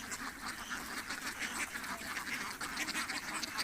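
A flock of Peking ducks on a duck farm quacks constantly, a dense overlapping chorus heard at moderate distance.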